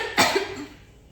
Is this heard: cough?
yes